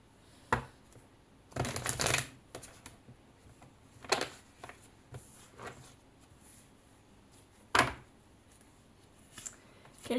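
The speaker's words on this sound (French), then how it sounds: "On mélange en mode poker." Deck of cards shuffled poker-style for a reading, a few brisk riffling bursts separated by quiet pauses and soft handling taps, close and alone.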